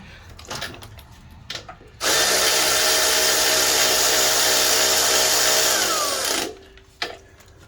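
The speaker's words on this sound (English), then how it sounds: "Alright, finish off with a wrench." A wrench tightens a water pump bolt on a 2009 Toyota Camry 2.4L, giving a loud, continuous whirring buzz for about four seconds after a few soft workshop clanks, then stopping abruptly.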